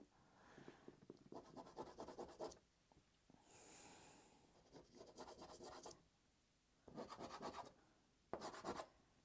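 Soft pastel stick scratching and rubbing across a sheet of paper, in several close, dry bursts of strokes separated by short pauses and a brief softer rub.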